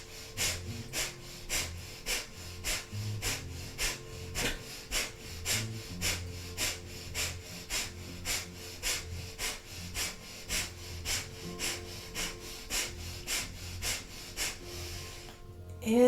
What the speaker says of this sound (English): Powerful breath of fire.